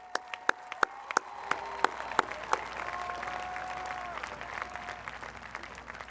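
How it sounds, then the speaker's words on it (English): A crowd at the Monty Tech graduation applauding a retiring staff member, with sharp, scattered individual claps ringing out at the start over a softer, steady, somewhat distant applause bed that continues throughout. "So that's a big round of applause for that"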